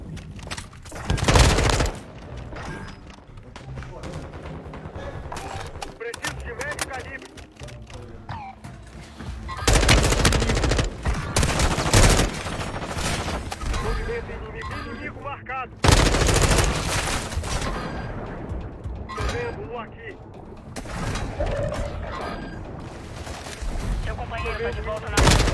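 Rapid bursts of video-game gunfire, dense volleys and single shots trading back and forth, loud and near, with a voice talking over parts of it.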